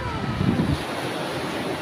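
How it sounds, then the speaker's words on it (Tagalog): Ocean surf at Dingal, with waves breaking on the shore and a steady wash of wind noise over the microphone, a fuller surge near the start that settles into continuous hiss. "Medyo malakas yung alon dito"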